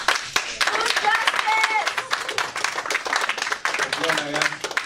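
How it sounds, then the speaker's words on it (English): An audience claps at a heated radio station board meeting, a scattered burst of applause mixed with loud, overlapping voices and shouting throughout. "Applauding is respectable, sir."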